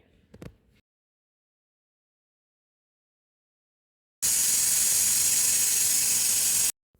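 A loud, steady hiss of steam escaping from a pressure cooker of paneer biryani for a couple of seconds after near silence, ending abruptly.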